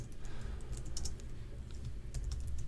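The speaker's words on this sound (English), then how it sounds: "hit B on the keyboard to drop that out" Quick, fairly faint clicks of typing on a computer keyboard while using GarageBand, a busy irregular patter of keystrokes over low background hum.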